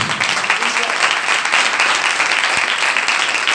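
A church congregation claps together in a sustained, dense burst of applause that fills the room evenly for several seconds, loud and close, with no speech over it.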